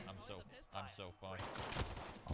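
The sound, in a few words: gunshots in a video game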